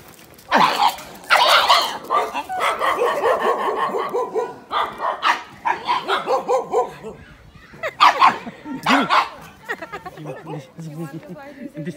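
A street dog in Pokhara, Nepal barks and yips in loud, close bursts, with a person talking to it between the barks.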